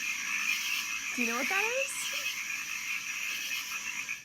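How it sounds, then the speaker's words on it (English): Frogs croaking a few times in a short burst of rising calls against steady background hiss, with a voice asking a brief question just after. "If you guessed frogs,"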